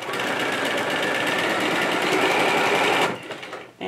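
A sewing machine stitches a zigzag stitch on fabric, a rapid, dense mechanical chatter running fast and steady up close for about three seconds before stopping, followed by a brief pause and a short restart.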